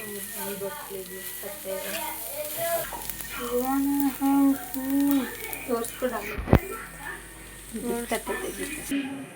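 Egg bhurji with onion, green chilli, chilli powder, salt and oil frying in a pan, a steady close sizzle with stirring scrapes, under a woman's speech throughout.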